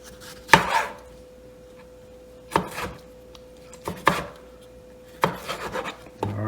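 A serrated knife chops tomatoes for guacamole in a few sparse, quick knocks against a cutting board, quiet and close, with short gaps between the strikes.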